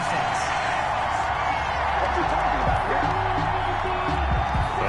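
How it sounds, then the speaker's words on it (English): A packed football stadium crowd roars in a dense, steady wash of noise after a roughing-the-passer penalty, loud and continuous beneath a commentator's voice. "Well, this crowd does not like that call"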